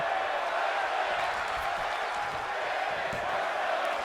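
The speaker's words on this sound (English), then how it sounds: "And you see Angelina trying to quiet this crowd down." A wrestling crowd roars and cheers in an indoor arena, a dense continuous wash of noise with no breaks, loud and close throughout.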